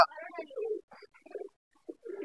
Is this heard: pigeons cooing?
yes